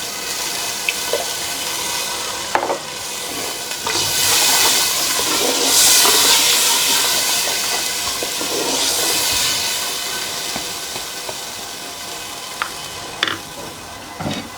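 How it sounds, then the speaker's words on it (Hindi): Half a cup of water poured into tomatoes cooking in a pan, a loud hissing sizzle that swells and fades over several seconds with clinks of a utensil, no speech. "अब इसके साथ ही मैं थोड़ा सा हाफ कप के बराबर पानी शामिल कर दूँगी।"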